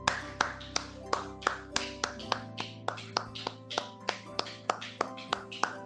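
A church congregation bursts into rhythmic applause, roughly fifteen sharp claps ringing out at a steady beat, close and loud, over a sustained organ or keyboard chord that drops to a lower note midway.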